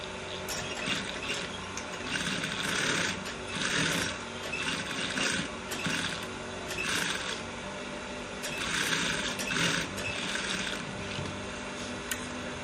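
A sewing machine top stitching a trouser front pocket runs steadily up close, a continuous mechanical whirring and clatter with rhythmic surges that barely pause over about twelve seconds, with no voice.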